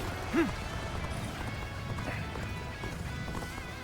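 Rhythmic hoofbeats of a galloping horse in Dynasty Warriors: Origins game audio, steady and moderately loud, with a brief whinny-like call near the start amid busy battle effects.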